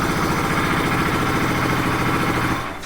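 Bajaj RS 200 BS6 motorcycle engine running at idle with a self-start problem, a loud, close, steady pulsing throb that fades slightly at the very end.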